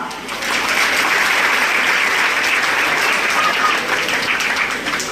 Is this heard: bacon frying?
no